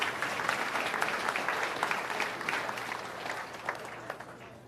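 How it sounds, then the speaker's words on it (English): Audience at a mayor's town hall meeting applauds steadily for several seconds, a dense wash of clapping that slowly thins toward the end, with no talk over it. "let's give them a big round of applause for all they do"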